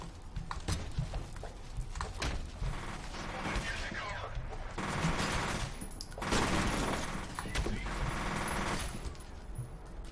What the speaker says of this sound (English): I'm glad that this shotgun is as powerful as I remember it being